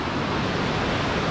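A gentle waterfall pours into natural swimming pools at Emerald Creek Falls in the Atherton Tablelands, making a constant, even rush of water with no pauses.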